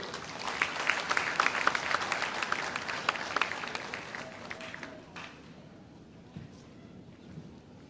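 Applause from an audience in a hall at a Chennai IAS academy event, a steady, fairly full round of clapping that thins out and fades to near quiet toward the end.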